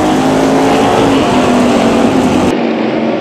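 Street stock race cars at Orange Show Speedway roar together on a restart, making a loud, dense, continuous engine drone close by that cuts off abruptly near the end.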